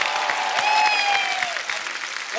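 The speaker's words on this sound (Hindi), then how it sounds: "एक बार जोरदार तालियां सलमान भाई के लिए।" Loud studio audience applause on a comedy talk show for Salman Khan, a thick continuous roar of clapping with a sustained whistle tone riding over it, fading slightly toward the end.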